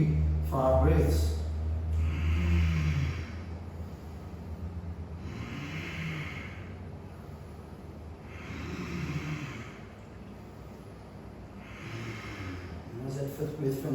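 Slow, deep breaths during the Ashtanga standing pose Virabhadrasana B, about four long rushing exhalations evenly spaced, close and steady, with a person speaking briefly at the start.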